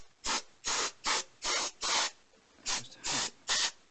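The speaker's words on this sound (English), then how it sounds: "Some air out dust that. This is just like compressed air really," Compressed air sprays in eight short, sharp hissing bursts with brief gaps between them, blowing dust out of the case of a rugged 1970s Soviet-era Vega 405 transistor radio.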